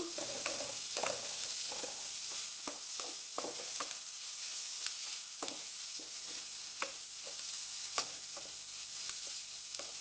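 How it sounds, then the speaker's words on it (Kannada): Onions for a chicken gravy fry over a medium flame, giving a continuous crackling sizzle under irregular scraping and stirring strokes of a ladle in the pan. No voices. "ಮೀಡಿಯಮ್ ಫ್ಲೇಮಲ್ಲಿ ಇಟ್ಕೊಂಡು ಫ್ರೈ ಮಾಡ್ಕೋಬೇಕು"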